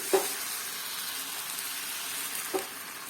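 Thin neer dosa batter sizzles in a hot pan with a steady, fairly quiet frying hiss, punctuated by two faint clinks.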